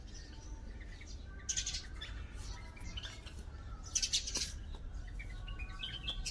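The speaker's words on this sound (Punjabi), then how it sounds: "ਆ ਚਿੜੀ ਦੇ ਬੱਚੇ ਹੁਣ ਪਲ ਗਏ" Sparrow chicks in a nest at a house chirp in short high bursts, fairly faint and intermittent over steady background noise.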